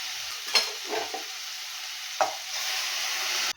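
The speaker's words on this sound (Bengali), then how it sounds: "এবারে আমি এর মধ্যে গরম জলটা দিয়ে দেবো।" Hot water poured into a pan of sizzling fried fish curry masala for a light katla fish curry: a steady hiss of frying with a couple of brief louder bursts and stirring scrapes, no voices.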